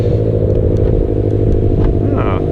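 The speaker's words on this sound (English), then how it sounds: "I hear a boxer engine behind me." A Subaru BRZ boxer engine rumbles close behind the car, a steady loud low drone running unbroken through the whole stretch.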